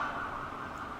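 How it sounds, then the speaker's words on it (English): A faint, steady siren wails in the distance, a thin sustained tone over quiet background noise. "Sorry about the sirens."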